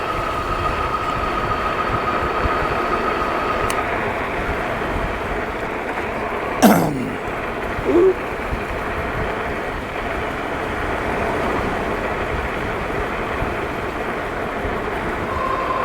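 Steady broadband wind noise rushes around the rider on an Amyet S8 e-bike, a constant close roar with a brief cough and a throat clear in the middle.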